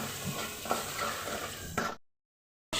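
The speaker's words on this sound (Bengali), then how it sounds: "এখন আমি ভালোভাবে এটা কষিয়ে নিব।" Salted food is sautéed and stirred in a pan, producing a close, continuous sizzle with scraping stir strokes, then a sudden stretch of silence before the frying returns.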